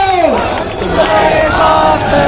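A crowd at a rally for a district panchayat chairman in Dindori lets out a loud, sustained roar of cheering and chanting voices, with a rising cry at the start and massed shouting continuing throughout.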